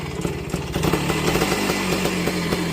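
1968 Benelli Leoncino Scrambler 125cc motorcycle idling and revving with a new two-stroke silencer fitted, a loud close rapid popping exhaust beat that steadies after a brief rise.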